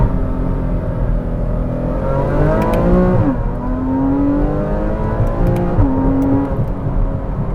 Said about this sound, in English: let's go through the gears. Oh, them shifters, oh, they're so satisfying.